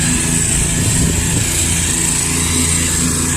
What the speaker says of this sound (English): There's a crowd of people over there mowing.